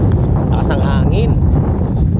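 Strong wind buffets the microphone at a shore fishing spot, a steady broadband roar running unbroken under the whole stretch, with a voice talking faintly within it.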